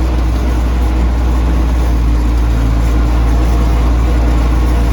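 Tractor engine running in a field in winter on frozen-thawed ground, a steady loud low drone with constant rumble and no change in pace, heard close throughout.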